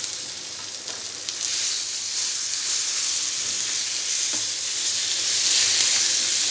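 Ground peanut and gongura chutney sizzles steadily in a hot tempering of seeds, garlic, dried red chillies and curry leaves, a continuous close frying hiss with no talk.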